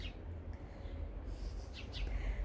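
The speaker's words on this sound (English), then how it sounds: "It's all about our birds, the quail, and the garden at the back" Quail in a backyard garden behind a house give a few faint, short chirps near the end over a low, steady background hum.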